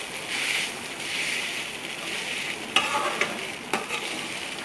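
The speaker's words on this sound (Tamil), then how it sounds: "அந்த ரைஸ் எல்லாத்துலேயும் அந்த பவுடர் வந்து கலக்கிற மாதிரி நல்லா மிக்ஸ் பண்ணி விட்டுக்கோங்க" Leftover rice being stirred with capsicum spice powder in a pan, a steady soft scraping sizzle with a few sharper clinks of the spoon against the pan.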